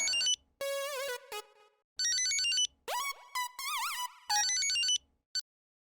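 A phone ringtone plays in loud, clear electronic bursts of melodic tones, several rings separated by short gaps, with no one speaking.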